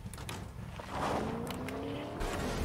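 A car engine in the video game Fortnite revs and accelerates, a close, rising engine drone that steps up louder partway through, with brief tire-like squeal over it.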